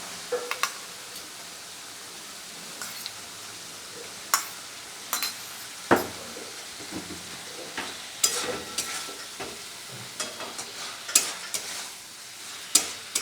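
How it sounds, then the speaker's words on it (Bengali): Fried flat beans are tipped into a pan of sizzling spice mix and stirred, a steady low frying hiss broken by repeated scraping clicks of the spoon against the pan at an uneven pace. "বন্ধুরা এবার আমি ভেজে রাখা ছিমগুলো এর মধ্যে দিয়ে দিচ্ছি"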